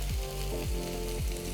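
Chopped medium-sized onion fries in hot oil with spluttering mustard seeds, giving a dense, close crackling sizzle with a few soft clinks of a spoon or pan.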